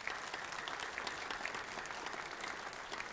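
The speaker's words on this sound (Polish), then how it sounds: "Kobiety na walizkach, wy im klaskocie, one się pojawiają." Audience at a Silesian hit-song concert applauds steadily, a dense even wash of clapping filling the hall with no pauses.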